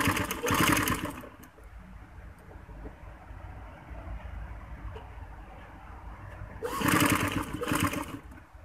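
A sewing machine stitches a frock in two loud, close bursts of rapid clatter at the start and end, with a quieter steady hum between.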